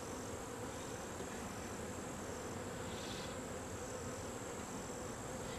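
Honey bees buzzing on a frame lifted from a hive, a dense, steady drone of many wings heard up close and continuous throughout, with no voices.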